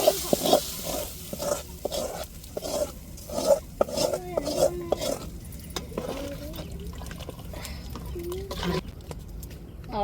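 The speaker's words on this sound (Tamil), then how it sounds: "இப்போ தக்காளியும் சேர்த்து நல்லா எண்ணெயில் வதக்கி விட்டுருவோங்க" Tomatoes fry in oil for a country-chicken curry, with a low sizzle and rhythmic scraping stirs close by, while a voice and other noises cut in now and then.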